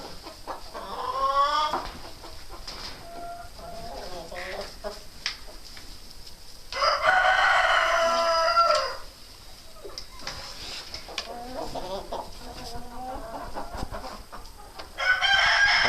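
In a winter chicken coop, Jersey Giant chickens cluck and squawk close by while a rooster lets out several loud crows, the calls overlapping in bursts with quieter stretches between.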